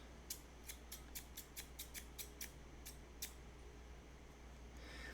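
Scissors snip in a quick run of about ten crisp cuts in a home kitchen, close and clear over a low steady hum, then stop.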